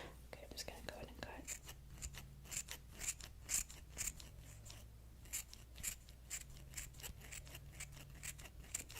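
Scissors snipping through wedding dress fabric at close range, a steady series of crisp crunchy cuts in an irregular rhythm, with soft whispering underneath.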